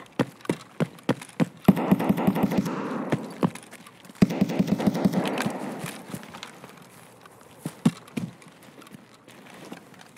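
Gunfire in Escape From Tarkov: a rapid string of sharp, loud cracks and bursts, some clustered, others isolated shots spread across the stretch, with dense rumbling bursts in between.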